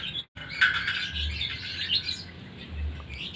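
Caged lovebirds kept outdoors, rapid bright chirps and squawks in overlapping bursts nearby, with no talking.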